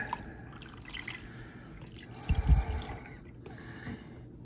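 Liquid paint stripper poured from a gallon container into a shoebox-sized plastic tub, heard as faint splashing and dribbling close by, with a brief heavier glug in the middle.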